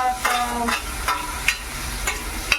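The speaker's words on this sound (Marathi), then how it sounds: "मसाला शिजेपर्यंत आपण त्याला परतून घेऊया टॉमॅटो असा मस्त भाजला पाहिजे" Chopped tomato with ginger and garlic sautéing for pav bhaji, a close sizzle under repeated rhythmic scrapes and taps of a spatula against the pan.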